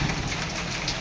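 Hail pelting down in a dense, continuous hiss and patter, loud and close, with no talking and no break in the downpour.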